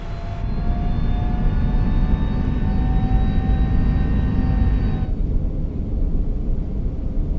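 Engine noise of an Airbus A321neo in a flight simulator game: a loud, steady jet roar with high whining tones, which drops abruptly to a duller, quieter rumble partway through.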